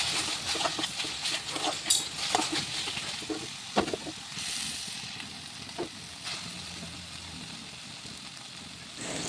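Chicken chow mein sizzling in a pan as tomato ketchup is stirred through, a continuous close frying hiss with scattered scraping stir strokes and no talking.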